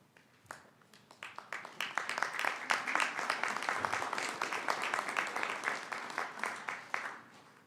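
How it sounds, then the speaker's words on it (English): At a college fall commencement, graduates applaud their family members and friends, a fairly faint clatter of many hands that builds quickly and holds steady before tapering off near the end. "Graduates, I offer you this opportunity to rise and applaud the family members and friends who have helped you on your journey."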